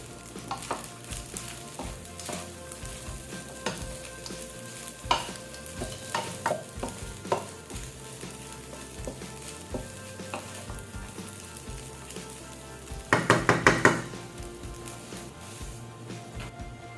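Fried rice with kikiam and squid balls is stir-fried in a pan: constant sizzle broken by repeated scraping and clanking of a spatula, with a louder burst of tossing toward the end, no talking.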